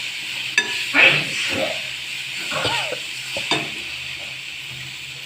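Tomato chutney fries in groundnut oil, a soft, low sizzle beneath intermittent stirring scrapes and a few light knocks of a spoon against the pan, close by and fairly quiet.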